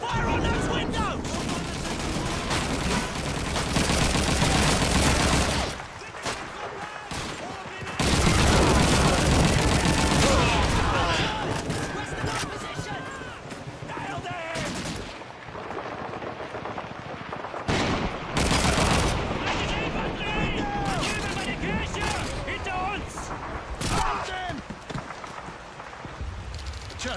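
Sustained battle gunfire in the World War II shooter Call of Duty 2, dense overlapping rifle and machine-gun bursts with heavier booms, loud and continuous throughout with shouted voices mixed in.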